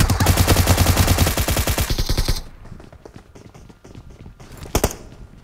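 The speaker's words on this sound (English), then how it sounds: "They're shooting at us." Rapid automatic gunfire from the video game PUBG Mobile, a loud dense burst of shots for about two seconds, then scattered quieter shots and one sharp blast near the end.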